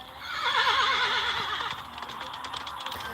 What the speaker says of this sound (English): I fly out of the house and leap onto my horse